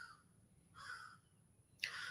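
Crows cawing outdoors on a quiet morning: three harsh caws, the last the loudest and nearest, over faint steady background hiss.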